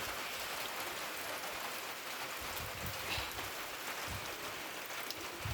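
Heavy rain pours down in a steady, dense wash of sound, a constant broadband hiss with a low rumbling undertone that continues without a break.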